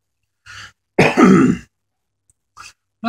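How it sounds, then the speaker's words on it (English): A person clears the throat and coughs up close after eating a Canadian military ration meal, with a soft lead-in sound, one strong harsh burst and a faint trailing breath. "Knocked something loose, made me cough there real quick."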